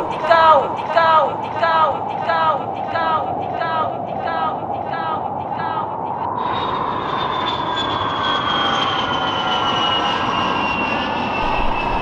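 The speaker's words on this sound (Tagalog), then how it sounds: "May paparating ah. Eroplano pero kakaiba." A strange-looking airplane with a crocodile-like head approaches in a Filipino animation. Its engine rises as a steady, loud drone after a stretch of rhythmic pulsing sounds, and it holds strong through the second half.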